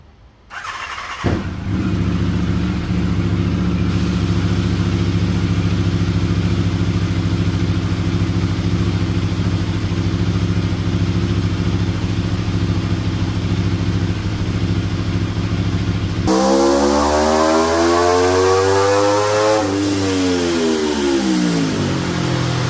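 A motorcycle engine with its silencer removed cold starts and settles into a loud, raw idle, then revs up and back down near the end, close and unmuffled.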